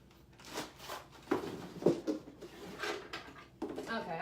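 Someone searching for wood glue pulls wooden drawers open and shut several times in quick succession, rattling contents shifting inside, close by with faint background voices.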